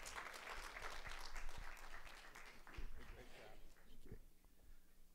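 A church congregation applauds during a morning service, a faint, sustained patter of many hands clapping with scattered louder claps, blended with voices speaking and calling out.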